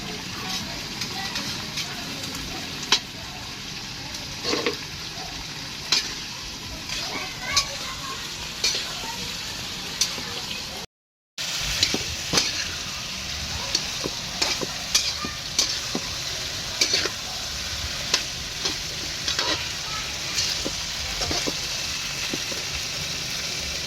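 Vegetables for Visayan-style pakbet sizzle and fry steadily in a pan, with occasional clinks and scrapes of stirring over a continuous hiss; brief dropout midway.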